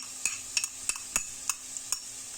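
Minced meat stirred into onions and peppers frying in a pan: a continuous sizzle with a regular series of sharp spoon taps and scrapes against the pan, close, with no speech.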